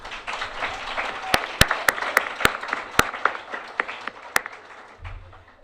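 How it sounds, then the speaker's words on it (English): Audience applause for young debaters at a youth mental health debate show: dense clapping with a few sharp, louder claps standing out, fading toward the end. "How about another round of applause for our debaters?"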